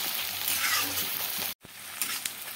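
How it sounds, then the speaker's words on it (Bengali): Onions fry over a medium-low flame, giving a soft, steady sizzle up close that cuts out briefly partway through before resuming, with no speech. "মিডিয়াম টু লো ফ্লেমে রেখে আমি পেঁয়াজটাকে এখন ভাজতে থাকবো।"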